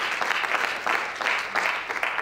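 A church congregation applauding during a French-language sermon, steady rhythmic clapping from a crowd, fairly close and loud, with clap bursts swelling and falling across the short stretch.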